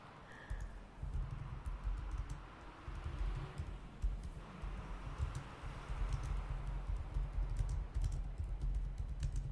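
Soft, close keyboard typing patters on continuously in quick irregular taps, taking notes in a quiet room.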